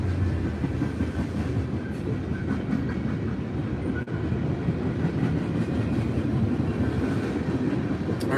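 A train rolls past continuously with a loud, heavy rumble and rhythmic clickety-clack of wheels on the rails, steady throughout with no voices.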